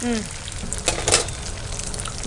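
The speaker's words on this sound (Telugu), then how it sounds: "ఓకే అండి, మనకి ఫ్రాన్స్ ఫ్రై అయిపోతుంది." Prawns frying in a pan for a Hyderabadi loose prawns dish give a close, steady sizzle with a couple of sharper crackles and stirring clatters.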